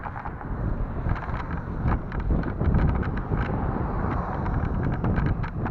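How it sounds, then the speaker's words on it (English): A steady outdoor breeze buffets the microphone, continuous rumbling wind noise with gusty crackling bursts throughout. "See, we have a steady breeze."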